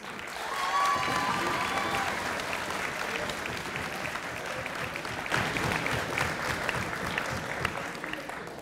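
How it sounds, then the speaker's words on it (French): Audience applause at a French debating competition, a steady dense clapping from a crowd lasting throughout, with a few faint voices and whistles mixed in near the start. "on l'applaudit."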